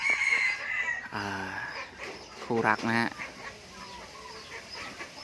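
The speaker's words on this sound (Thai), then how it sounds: "พอเริ่มเย็นไก่ก็จะขันฮะขันเช้าขันเย็นฮะ" A pet rooster on a farm crows at evening, its drawn-out harmonic calls heard twice in quick succession and fairly close, with someone speaking briefly between them.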